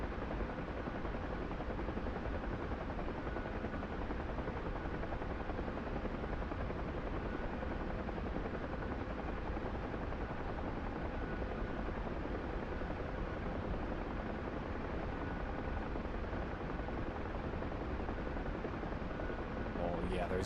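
A helicopter flies nearby with a loud, steady broadband rotor and engine roar that holds at an even level for the whole stretch, with no break or fade.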